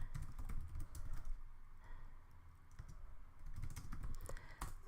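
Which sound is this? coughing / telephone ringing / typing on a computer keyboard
typing on a computer keyboard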